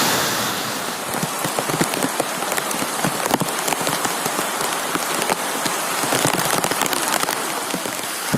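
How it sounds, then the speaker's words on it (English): Heavy monsoon rain pours steadily and densely on Mount Girnar, a constant close hiss of drops drumming on surfaces with no voices. "So it's raining heavily, so we all are climbing up."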